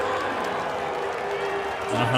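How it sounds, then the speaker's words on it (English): Crowd at a Seattle Mariners baseball stadium, a steady wash of clapping mixed with scattered boos, sustained throughout at moderate distance. "There's a smattering of boos. There's a lot of clapping, though."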